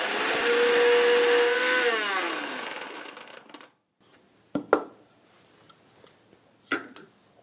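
A mixer grinder runs loud and steady, whirring as it grinds roasted spice masala for a Tamil peanut rice, winding down after about three and a half seconds, followed by a few sharp knocks and taps of the jar.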